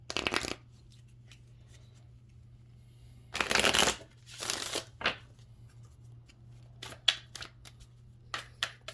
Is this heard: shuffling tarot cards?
yes